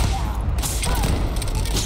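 Gunfire from a gun in the Starfield video game, a rapid burst of close, loud shots over dense combat noise, with no talk heard.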